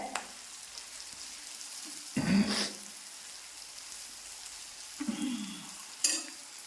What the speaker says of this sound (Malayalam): ഹൈ ഫ്ലെയിമിൽ തന്നെ ഇതിട്ട് വറുത്ത് കോരിയിടും